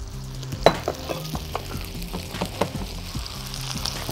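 Chicken pieces fry in butter and garlic in a pan, a steady close sizzle broken by sharp crackles and pops, with no talking.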